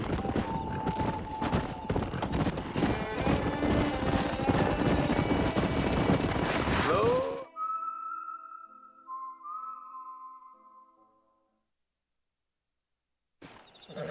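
Horse hooves clip-clop in Red Dead Redemption over game music and whistling, loud for about seven seconds before cutting off to quiet tones and silence.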